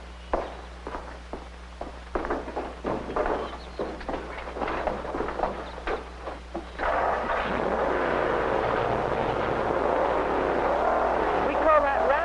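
A few spaced thumps give way to a hot rod V8 with dual exhaust roaring steadily at close range, a deep throaty rumble that holds until the end.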